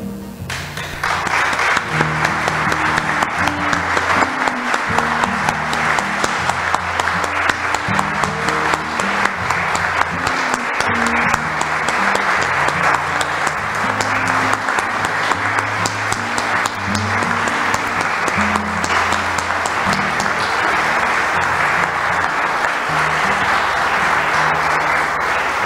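An audience gives a long round of applause in memory of someone who has passed away, dense steady clapping from many hands lasting well over twenty seconds, loud and even throughout with music underneath.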